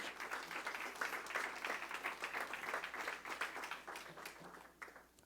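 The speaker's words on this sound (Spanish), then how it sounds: "Y le dan una ofrenda de palmas al Rey" Sustained applause from a church congregation, steady clapping over several seconds that thins out toward the end.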